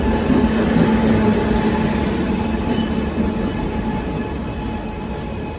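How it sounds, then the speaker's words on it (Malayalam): Maveli Express bound for Mangaluru Central rolling into platform 4 at a station, a loud continuous rumbling roar of coaches with a steady humming tone, gradually easing in level. "7:25 മംഗളൂരു സെൻട്രലിലേക്ക് പോകാനുള്ള മാവേലി എക്സ്പ്രസ് ഇതാ 4-ാം നമ്പർ പ്ലാറ്റ്ഫോമിലേക്ക് കടന്നു വരികയാണ്"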